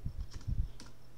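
Keys on a computer keyboard click in a short burst of quick, close taps while a Python print function is typed out, with no talking.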